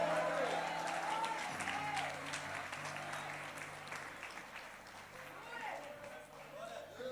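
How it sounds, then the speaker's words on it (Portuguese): A church congregation claps and cheers during a sermon, the sustained applause mixed with crowd voices and a preacher's talk, with a steady musical tone underneath. "fica de pé no teu lugar aí e aperta essas palmas"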